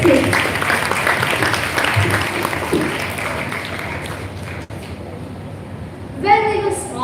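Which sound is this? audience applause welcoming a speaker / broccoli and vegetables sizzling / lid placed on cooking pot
audience applause welcoming a speaker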